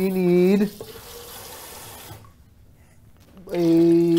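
Water runs into a large bowl in a cooking video game, a steady rushing pour that stops and then restarts, with a tonal voice sounding at the start and end.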